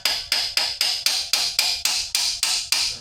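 A small hammer strikes a rusty suspension part in a steady series of about ten sharp, ringing metallic blows, evenly spaced and close, with nothing else heard.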